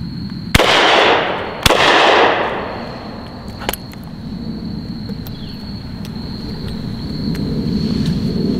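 .380 rounds fired through an X-Caliber shotgun adapter produce two sharp, loud outdoor gunshots about a second apart, each trailing into a long echoing decay, followed by quiet ambience.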